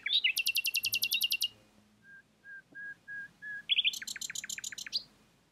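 A nightingale sings fast rattling trills, then a series of pure, evenly spaced whistled notes, then another rapid trill, bright and close over faint background noise.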